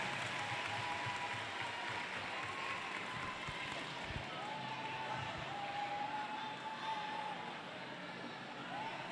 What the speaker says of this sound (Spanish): Fuerte el aplauso para Pantano de Vargas